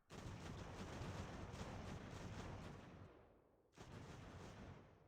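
Cannon fire in the video game Ultimate General: American Revolution, a loud sustained roar of booming artillery that briefly fades, then erupts again in a second heavy blast that rumbles on to the end.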